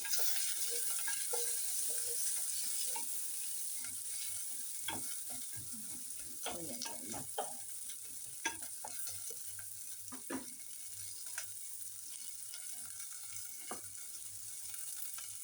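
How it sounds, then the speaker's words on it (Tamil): Ingredients sauté in a pan over steady, soft sizzling, with occasional scraping stir strokes clustered in the middle, close by and fairly quiet, no talking. "கொஞ்சம் இந்த பச்சை வாசனை போகும் மட்டும் வதக்கினால் ஓகே."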